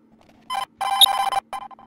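A telephone rings in the horror video game ColdSide, giving three electronic bursts in quick succession: a short ring, a longer one, then another short one, clear and close.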